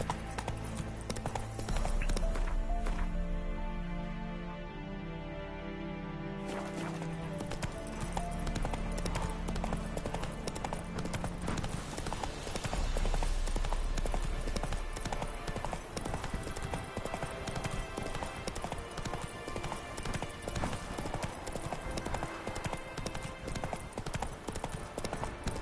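Geralt's horse in The Witcher 3 gallops with a continuous rhythmic drumming of hooves, loud and close, over layered game music and ambience.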